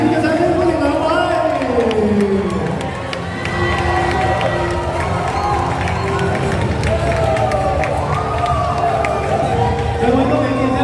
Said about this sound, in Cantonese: 熱烈嘅掌聲歡迎兩位！